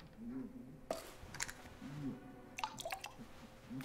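Water stirred and sloshed in a glass in Twelve Minutes, heard as soft wet drips and squishy clicks in two short clusters, faint and close, with a voice murmuring briefly.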